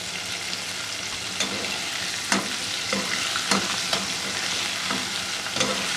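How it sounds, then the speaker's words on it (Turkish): Steady crackling sizzle of chicken liver frying in a pan over medium heat, with occasional sharper pops and spatters over a constant hiss. "Orta ateşte bunu güzelce kızartıyoruz."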